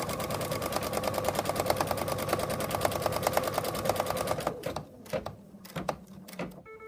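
A sewing machine stitches an in-the-hoop wallet pocket with a steady, rapid mechanical whir for several seconds, then stops, leaving a few scattered clicks and thumps nearby.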